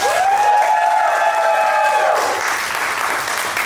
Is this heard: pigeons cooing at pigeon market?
no